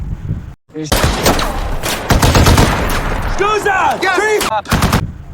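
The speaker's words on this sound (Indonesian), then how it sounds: "Keesokan paginya, Ramesa yang sedang bersama Skusa dan Griffin kembali diserang dari atas bukit sehingga kontak senjata pun terjadi." Gunfire breaks out in an Afghanistan war film as soldiers are attacked from a hilltop, with loud, rapid bursts of rifle and machine-gun fire, sharp whistling tones mixed in and a brief quiet gap near the start.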